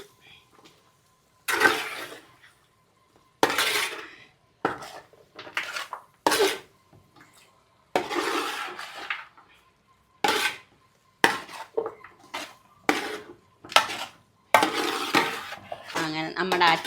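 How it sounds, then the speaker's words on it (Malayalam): Fish (choora) pickle being stirred and mixed in a vessel: separate bursts of scraping and clattering utensil strokes, close by, broken by short silences, with no talk. "എന്നിട്ട് നമുക്കിത് ഇത്രയും എല്ലാം കൂടെ അങ്ങ് ഇളക്കി മിക്സാക്കാം"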